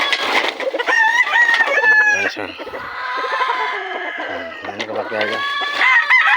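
A backyard rooster crows loudly and close by, two long drawn-out calls with clucking around them, while someone talks over the farmyard sounds.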